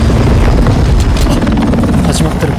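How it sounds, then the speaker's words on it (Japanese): Allied helicopter in the Call of Duty: Modern Warfare 2 campaign, a loud, heavy rotor roar with deep booming rumble throughout, close and continuous. "味方のヘリが落ちちゃいましたね。"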